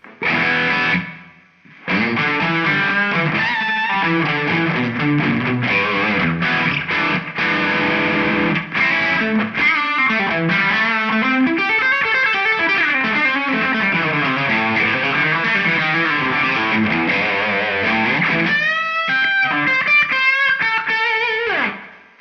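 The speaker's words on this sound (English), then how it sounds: "So now we have delay going into reverb." Distorted electric guitar playing a continuous melodic line through an Eventide H90, delay feeding a stereo room reverb, each note trailing into repeating echoes and a wide, lingering long-decay reverb; loud and steady with no voices.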